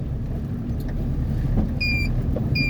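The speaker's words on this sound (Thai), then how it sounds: "รถไถนี่แทบจะไม่ได้พักเลยนะครับ" A tractor engine rumbles steadily at a worksite near a pond, a continuous low drone with faint higher tones and no talk.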